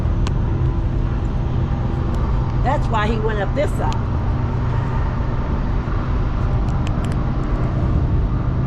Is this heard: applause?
no